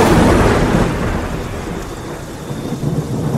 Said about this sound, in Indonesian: tiba-tiba hujan pun turun dengan deras.